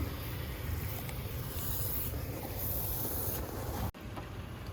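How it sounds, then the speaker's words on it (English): A continuous hiss of spray from an aerosol can into a clogged condensate drain, steady and close, cutting off abruptly near the end before resuming faintly. "we're gonna take this spray, and I'm gonna spray it in there"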